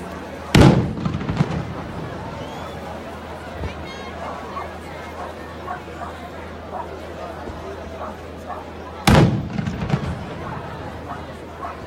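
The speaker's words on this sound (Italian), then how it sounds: "Questo è il colpo di cannone che saluta l'arrivo di una nave e l'inizio della cerimonia" Two loud booming cannon-shot salutes, one near the start and another near the end, ringing out over a murmuring crowd with people chatting in between, at a ship-arrival ceremony at the swing bridge in Taranto, Italy.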